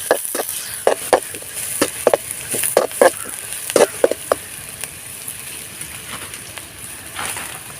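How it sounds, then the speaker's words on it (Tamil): Onions frying in hot oil for Tamil egg fried rice, a steady sizzle under repeated sharp scraping stirs of a spatula in the pan, close and fairly loud, then the stirring stops and only the sizzle continues. "ஆயில் காஞ்சிட்டு வெங்காயத்தை போட்டுக்கலாம்."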